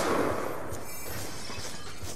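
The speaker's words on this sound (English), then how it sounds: "I heard someone breaking glass." Glass shatters in the shooter game Black Ops 2 during a custom match: a sharp, bright breaking burst at the start, then scattered debris over steady game ambience.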